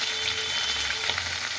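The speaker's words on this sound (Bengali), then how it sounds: "এবার সব কটা মাছগুলো ভেজে নিই।" Bata fish fry in hot oil in a pan, giving a continuous crackling sizzle up close and fairly loud, with no voices over it.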